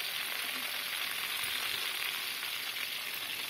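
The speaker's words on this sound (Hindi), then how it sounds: "1 मिनट के लिए हम इसको फ्राई करेंगे।" Onions fry in a pan, giving a steady, continuous close sizzle that holds at an even level throughout, with no voices.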